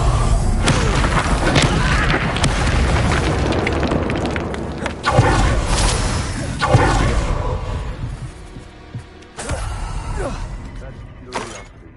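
Heavy booming blasts from the Bombarda explosion spell in Hogwarts Legacy, several loud impacts with rushing debris and whooshes, voices speaking over the action.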